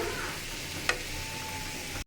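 Banana flower frying with small shrimp in a pan, a close, steady sizzle with a brief sharp stir or clink partway through, cut off abruptly at the end.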